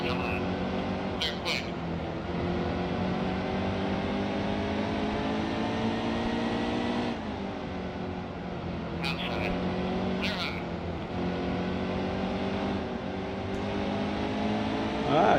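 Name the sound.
stock cars racing at Bristol in Nascar Heat 2 video game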